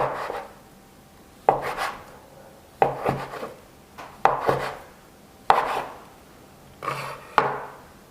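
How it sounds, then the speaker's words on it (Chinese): A knife chops through a rolled log of kneaded flour dough on a wooden board, dividing it into equal pieces: six separate, sharp thuds spaced about a second apart, each with a brief scraping tail, close and clear with no talking. "揉好的面团直接搓成长条状，切分成等份的面剂子"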